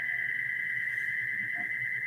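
A steady, continuous electronic tone holds unbroken throughout, a single sustained beep-like alarm note with faint room noise beneath.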